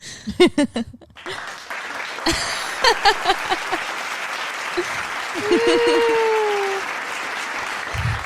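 A canned clapping sound effect from a podcast soundboard bursts out at the start, then gives way to other brief effects, including a rising whistle-like tone.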